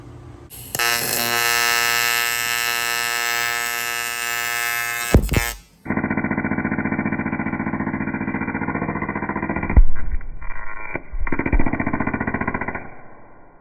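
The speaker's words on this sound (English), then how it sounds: "I'll flip it over so it's upside down, and I'll weld it from the cylinder base to this gap here." TIG welding aluminum on an upside-down Harley Knucklehead engine case under repair: a steady electric buzzing arc runs for about five seconds, stops, then resumes as a lower, continuous hum with brief breaks, loud and close with no talk.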